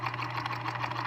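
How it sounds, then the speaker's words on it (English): A sewing machine runs steadily with its needle moving up and down, a fast even mechanical whir with a rhythmic pulse and a constant low motor hum, close and continuous with no talking. "now when you lock it back up, the bobbin will still run, I think, but so will the needle go up and down"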